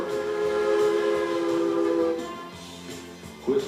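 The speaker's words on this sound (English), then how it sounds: "Whistles for each street crossing are answered by waves from townspeople all along the track." A Durango & Silverton narrow gauge steam train sounds its whistle at downtown street crossings, a loud sustained multi-tone blast lasting about two seconds and then fading, with a brief sharper burst near the end.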